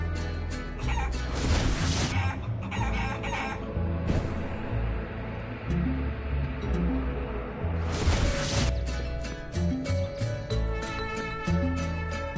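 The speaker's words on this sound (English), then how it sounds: "It's sad that this guy let his birds out of the cage again." Chickens cluck in the game Guacamelee, short repeated clucks layered over busy in-game music that keeps playing throughout the loud passages.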